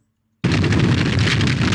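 A rock shattered by a laser in an endless runner video game bursts into a loud, sustained crackling blast that starts abruptly after a brief quiet and holds steady.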